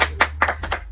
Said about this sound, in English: Okay, everybody listen to your clap now.